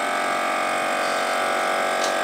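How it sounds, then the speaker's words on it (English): A vacuum cleaner running aboard a sailboat offshore, giving a continuous steady motor whine with a smooth, unbroken hum at fairly constant level and no talk. "Look, that's the vacuum cleaner."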